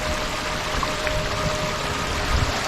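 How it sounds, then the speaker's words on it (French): Water flows down a waterfall on a mountain trail in the Dolomites, a steady rushing, splashing stream heard nearby at moderate level, continuous with small bubbling variations and no voices. "Je suppose qu'on entend le bruit de l'eau. Et c'est parce que je viens de tomber sur une cascade"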